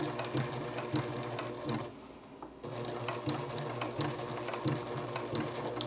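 A Juki Haruka TL-18QVP sewing machine runs steadily, stitching a straight line along the bottom edge of a patch, with a brief slowdown midway before the close, even mechanical whir resumes.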